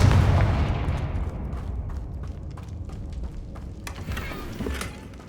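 A Confringo blasting spell explodes in Hogwarts Legacy with a loud, close burst at the start, then trails off into a low rumble speckled with scattered crackles and pops.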